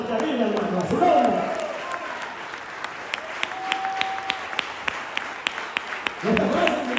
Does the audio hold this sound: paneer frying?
no